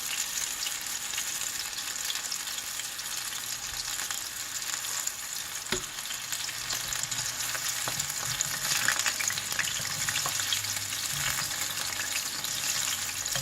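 Mutton kola urundai meatballs frying in oil with a continuous dense sizzle, broken now and then by a faint clink or scrape as the balls are turned. No one talks.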